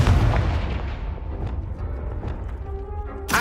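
A Confringo blasting curse in a Harry Potter video game bursts out as a loud, close explosion, its boom trailing off into rumbling debris and ending with a sharp final crack.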